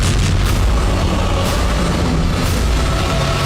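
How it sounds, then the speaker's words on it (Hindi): A loud, deep explosion from a drone strike on a vehicle rumbles continuously, with heavy low-end booms and faint crackling bursts, no voices. "फिर जोरदार धमाका हुआ।"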